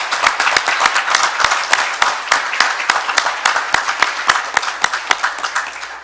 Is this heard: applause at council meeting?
yes